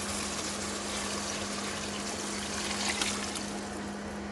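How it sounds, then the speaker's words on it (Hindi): Water pours steadily into a pot of mutton paya, a continuous close splashing rush that holds an even level from start to finish. "इसमें मैं इतना सा पानी ऐड करूँगी।"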